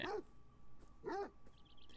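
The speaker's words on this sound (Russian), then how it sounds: "Че ты гавкаешь-то?" Dog barking in the video game Beyond Eyes, two clear bark-whimper bursts close by, separated by a pause, with faint game ambience and small chirps behind.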